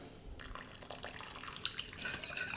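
Boiling water poured into a large bowl holding lime gelatin and sugar, a steady close splashing pour with small drips and clinks running throughout.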